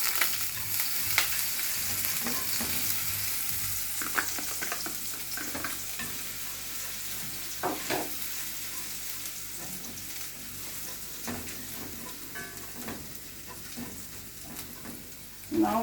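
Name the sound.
chopped onions and garlic sautéing in a pan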